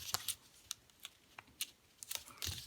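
Paper being creased and folded into an origami walrus, a sequence of quiet, sharp crisp rustles and taps spaced irregularly, close and faint, with no talking.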